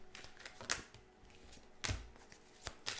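Tarot cards laid face down on a table during a reading, a short run of soft, close slaps and flicks with uneven rhythm, faint and alone.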